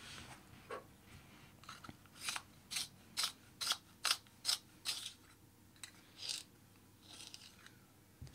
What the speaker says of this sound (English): So a lot of sharpening goes on when creating a colour pencil piece in this way.